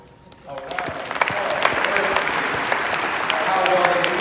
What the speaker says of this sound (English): let's give this choir and orchestra a round